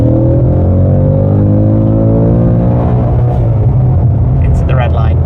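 A 450-horsepower Ford Mustang Dark Horse revving hard toward the red line, a loud sustained engine roar with rising harmonics, and a voice speaking over it near the end.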